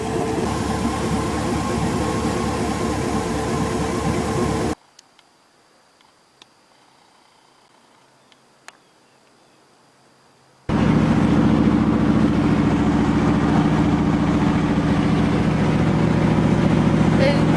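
Idling LS-swapped third-generation Pontiac Firebird, a budget rat build, rumbling loud and steady, cutting out to near silence for several seconds, then returning just as strong.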